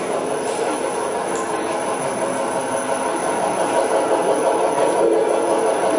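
An electric motor on a variable drive runs slowly at 6 Hz, giving a steady, even hum with a faint grinding from a slightly noisy new-old-stock bearing.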